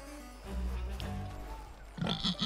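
Pig grunts from the video game The Plucky Squire, a few short low snorting grunts over a steady game-music bed, with a brighter burst of grunting near the end.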